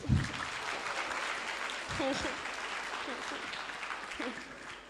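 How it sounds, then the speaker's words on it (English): Audience applause at a science buskers festival, a dense burst of clapping that holds steady for several seconds, with a speaker's voice carrying over it at moments. "Let's give them a round of applause."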